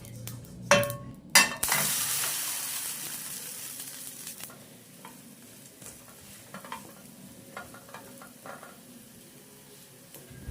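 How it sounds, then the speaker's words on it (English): Akara bean fritters frying on low heat in a pan, a soft continuous sizzle throughout, opened by a few sharp clattering knocks and followed by occasional light stirring scrapes. "We let this fry for about 3 minutes on low heat before flipping it around or flipping it over"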